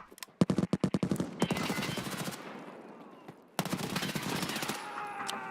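An SR rifle fires in a video game, opening with a rapid burst of a dozen sharp cracks. Sustained noisy gunfire follows, then after a brief gap a second loud stretch of shooting with ringing metallic tails.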